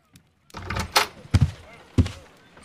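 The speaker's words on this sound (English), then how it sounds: "I just heard the front door." The front door opens in Sherlock Holmes Crimes & Punishments: a few sharp thunks and knocks of the latch and door, close and fairly loud, separated by short quiet gaps.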